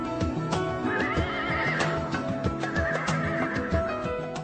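A horse at a training ground in an Islamic boarding-school town in Java neighs in a long, wavering whinny, close and loud, with hoof clip-clop and steady background noise throughout.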